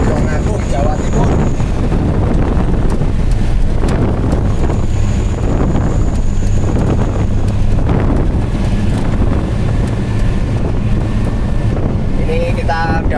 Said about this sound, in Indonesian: Angin kencang ini, situasi sudah mulai mendingin banget